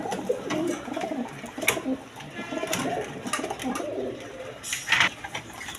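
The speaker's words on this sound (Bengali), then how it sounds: "দশমীতে এখানে এক পের কালদম কবুতর আছে দেখেন" Indian Kaldom pigeons coo softly and repeatedly among low background clatter and faint murmur, the calls fairly quiet and close.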